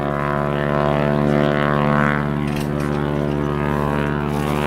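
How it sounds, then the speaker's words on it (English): A small propeller aircraft near Brooks River, landing or taking off, gives a steady, loud engine drone with a layered harmonic hum that holds level throughout without pause. "that noise you're hearing is an airplane that's coming into land"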